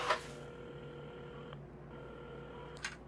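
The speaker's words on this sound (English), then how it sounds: "Carmen had started dialing the phone" A telephone being dialed in the puzzle game Assemble with Care, at a café counter: a steady electronic tone hums throughout, with a short beep at the start, a brief break midway and another click near the end.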